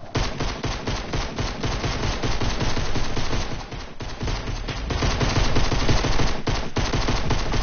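Fortnite gunfire: dense, rapid automatic bursts crackle almost without pause, with a short lull midway before the shooting resumes at full volume.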